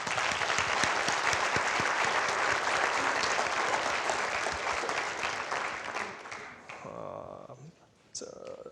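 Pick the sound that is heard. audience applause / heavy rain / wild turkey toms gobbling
audience applause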